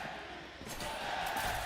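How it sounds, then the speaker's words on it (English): An esports arena crowd at VALORANT Masters Madrid roars and cheers in a dense, sustained swell that grows slightly louder toward the end, with a commentator's voice faintly mixed in. "And the crowd get behind them after that."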